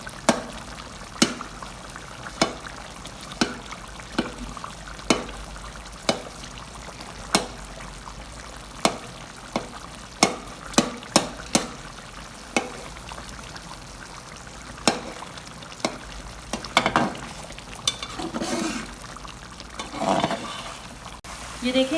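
Mutton karahi cooks in a pan as tomatoes are broken up with a utensil, producing sharp, regular taps and scrapes over a soft, wet sizzle.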